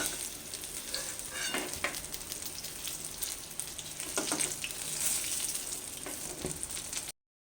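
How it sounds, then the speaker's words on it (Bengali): Eggplant pieces frying in hot oil with a steady crackling sizzle, punctuated by a few louder pops and spatters, close and continuous until it cuts off. "আবার ওই তেলের মধ্যে বেগুনগুলোকে আমি দুবারে ভেজে নিচ্ছি"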